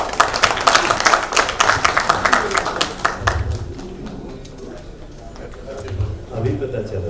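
Audience at a Bhojpuri OTT platform launch breaks into loud, dense clapping that fades after a few seconds, leaving low rumbling and a voice over the room.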